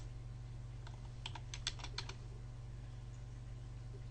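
Code being typed on a computer keyboard: a short, quick run of faint key clicks over a low steady hum, with no talking.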